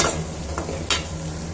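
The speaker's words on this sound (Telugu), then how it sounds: "ఇప్పుడు ఆనియన్ వేసుకుందాం కరివేపాకు వేసి ఫ్రై చేసుకుందాం" Onion and curry leaves fry in hot oil for a raw mango dal tempering, a steady close sizzle broken by two quick scraping stirs.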